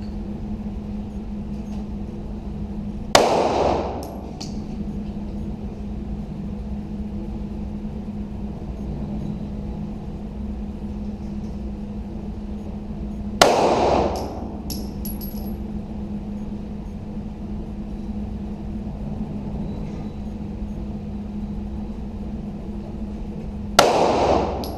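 Three sharp gunshots, evenly spaced about ten seconds apart, crack out during a target shooting drill, each with a short decaying tail over a steady low background hum; no talking.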